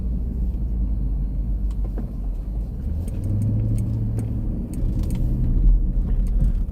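Car driving on a Los Angeles street at night, a steady, close engine and tyre rumble that holds throughout with slight surges.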